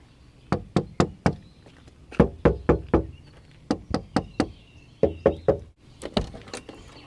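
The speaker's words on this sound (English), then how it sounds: "I tried knocking around on it" A series of sharp, hollow knocks on a 1989 Jeep Cherokee door panel in quick bursts of three to five, loud and close, with brief pauses between groups.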